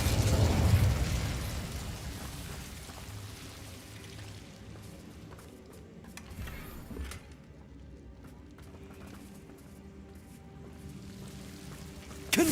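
An Incendio fire spell in Hogwarts Legacy bursts with a loud whooshing blast at the start, then fades into a low crackling combat ambience with lighter impacts.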